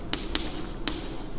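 Chalk or a pen writing on a board during a probability lesson, heard as three quick, distinct taps and strokes close by, with no talking.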